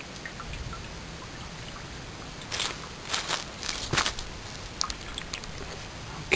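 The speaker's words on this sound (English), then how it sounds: "we've got our fire going" A small outdoor campfire burning under water set to boil, with sparse sharp crackles and pops over a steady hiss, a few clustered snaps in the middle, no voices.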